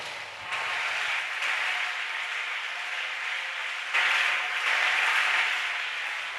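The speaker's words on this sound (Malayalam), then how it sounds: "കൈയടിക്കുന്നെങ്കിൽ നേരെ കരങ്ങളടിക്കുക" Church congregation applauding at a Malayalam Christian gathering, a steady wash of clapping from many hands that holds for several seconds and swells louder near the end, with no voices over it.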